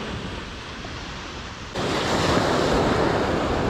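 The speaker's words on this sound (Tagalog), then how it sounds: "Mabuti na lang, kalma yung dagat." Calm sea waves wash onto a shore in Oman during a fishing outing, a steady broadband surf wash that grows louder and fuller about halfway through, with some wind noise on the microphone and no talking.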